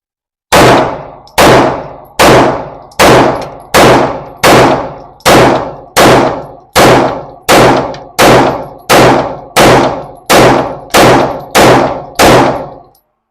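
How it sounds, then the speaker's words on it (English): A Taurus TS9 9mm-style handgun fired at an outdoor range, sixteen or so loud, evenly paced sharp shots about 0.8 seconds apart, each ringing briefly before the next, with no talk. "Let's run another 17 rounds."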